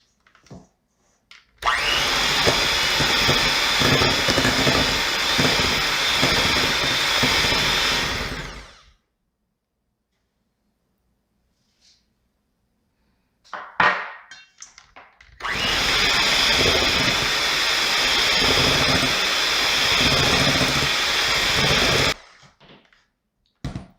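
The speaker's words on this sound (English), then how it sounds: "we are going to start beating the butter and the sugar until nice and fluffy" An electric mixer beats butter and sugar for a marble pound cake, running loud and steady in two long bursts with a quiet pause between them, close by and with no voices.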